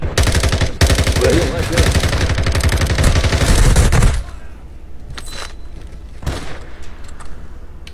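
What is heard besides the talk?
gunfire in a video game shootout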